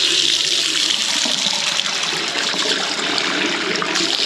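Hot water running hard from a tap in a home plumbing setup, a loud, steady rushing hiss that keeps going without a break, with no talking.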